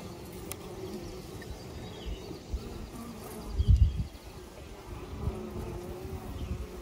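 Honey bees at an open hive with a laying worker colony give off a faint, steady buzzing drone, with a few soft thumps and handling knocks close by.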